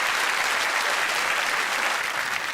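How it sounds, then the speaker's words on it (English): A studio audience at a BBC game show breaks into loud, sustained applause, many hands clapping in a thick, unbroken roar. "Give him a round of applause"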